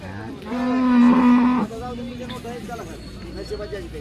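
A cow at a cattle market in Baramati lets out one loud, long moo close by, followed by quieter background sounds and scattered voices.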